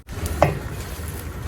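Chicken mechado with bay leaves, black pepper and garlic powder being mixed in a pan, a soft scraping stir over a low sizzle with one brief utensil clink, short and close.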